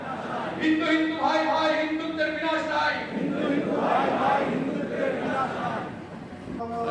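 A loud crowd at a Hindutva rally, with a cultural evening and a BJP speech, shouts and chants together. The dense mass of raised voices holds steady for several seconds and swells in places.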